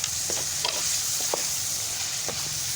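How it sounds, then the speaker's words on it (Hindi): Chicken karahi with spices stir-fried in a pan over a wood fire: a steady close sizzle with a few scraping stirs and clinks, no talking. "अब मसालों के साथ हम इसको भूनेंगे"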